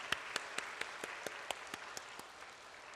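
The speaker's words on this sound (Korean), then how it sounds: "우리 그분들 모두에게도 격려의 박수 올려드리겠습니다" In a church, a congregation claps in unison at a steady, even beat, each crisp clap evenly spaced, heard faintly and softening toward the end over a low background wash of scattered applause.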